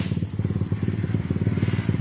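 An enduro trail motorcycle on a Palawan trail ride roars close by with a fast, pulsing engine note that stays loud and rough throughout.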